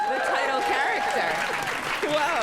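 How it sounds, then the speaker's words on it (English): Live audience applause at a podcast taping on stage, a dense steady clapping wash with a person speaking over it throughout. "how do you feel about the fact that Gregor got more applause?"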